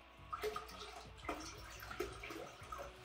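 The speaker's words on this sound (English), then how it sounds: "I'm gonna do a quick water change on this tank" Water splashes and trickles faintly during a water change on a 20-gallon aquarium, with small irregular drips and plops over a soft steady flow, low in level with no talk.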